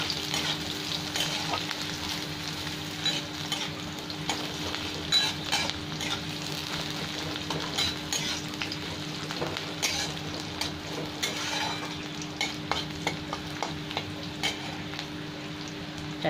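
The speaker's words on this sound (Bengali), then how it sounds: "পেঁয়াজটা একটু লাল লাল ভাজা হয়ে যাবে" Onions sizzle and fry in a pan for Bengali dal, a continuous crackling hiss with occasional soft scrapes of stirring, close up and without talk.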